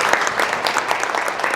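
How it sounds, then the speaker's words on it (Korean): An audience at a university photography lecture welcomes the guest speaker with loud, dense applause, many hands clapping in a steady close-up patter throughout. "박수로 좀 맞이하겠습니다."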